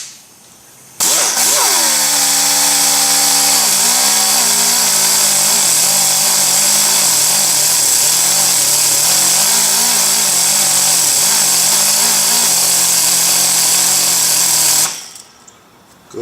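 A cutoff wheel grinding on the inside of a punctured VW tire, starting abruptly into a loud, sustained high-pitched whine with wavering tone for about fourteen seconds, then cutting off.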